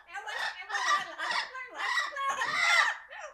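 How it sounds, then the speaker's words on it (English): Pet birds, including a parrot, squawking and screeching indoors in several loud bursts of harsh calls close by. "The birds are here. They are yapping."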